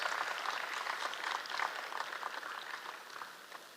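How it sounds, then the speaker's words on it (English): A conference audience at a valedictory ceremony claps steadily for a prize winner, a moderate, even patter of many hands that tapers slightly toward the end. "Huge round of applause."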